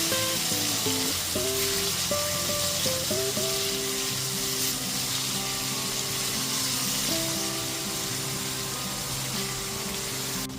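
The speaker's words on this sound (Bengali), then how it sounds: "টমেটো বাটাটা দিয়েও খুব ভালো মতো একটুখানি কষিয়ে নেব।" Tomato paste fries with onion, ginger and garlic in a pan for a jackfruit and prawn curry, giving a steady, bright sizzle throughout, with a few brief tonal sounds near the start.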